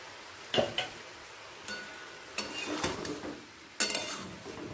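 Fresh winter vegetables cook in a pan on a low flame, first covered and then stirred, with a soft sizzle beneath a few close utensil scrapes and pan clinks spread across the stretch.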